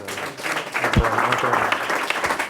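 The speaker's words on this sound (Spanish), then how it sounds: "os voy a pedir un gran aplauso" Audience applause for the speaker at a CompoLider debate, clapping building and continuing close by with a brief low thump and some voices mixed in.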